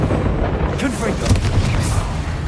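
The Confringo fire spell from Hogwarts Legacy goes off as a few quick, booming bursts with a rough, crackling tail, loud and close.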